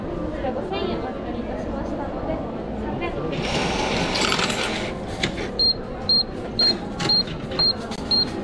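Coins clink and rattle into a coin-operated machine in a shop in Umeda, Osaka, in a short metallic burst, followed by a series of regular electronic beeps, over steady background chatter and crowd noise.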